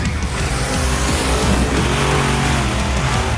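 A 12,000-pound monster truck engine revs loud and steady, a dense roar that holds throughout, near and alone, as it lines up for a ramp stunt.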